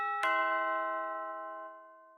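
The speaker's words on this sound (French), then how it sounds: "j'entende la sonnette comme ça, un ding-dong" A doorbell ding-dong effect played back in the Unity game engine rings once with a sharp strike and a clear sustained tone that slowly fades, alone with no talk.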